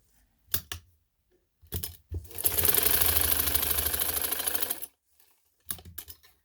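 A sewing machine stitching fabric for a V-neck design: brief ticking bursts, then a sustained rapid whirring run of about two and a half seconds, followed by more short clicks, close and clear with no talk.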